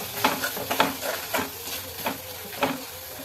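Tomato and turmeric fry in a pan for sprouted green gram palya, a steady sizzle broken by close, rhythmic scraping stir strokes about twice a second, with no talking.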